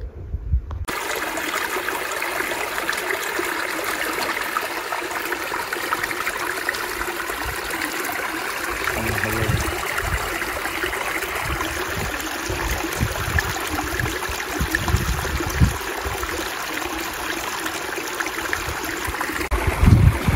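Steady rushing of a mountain stream fills the whole stretch, a continuous broadband wash of water running over rocks, with occasional low thumps, at Wadi Musa.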